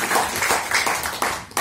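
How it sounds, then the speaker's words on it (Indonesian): Audience applause closes the final day of a provincial badminton referee course in Southwest Papua, a short burst of many hands clapping at close range. "kita beri tepuk tangan dan aplaus yang besar buat Bapak Nelson."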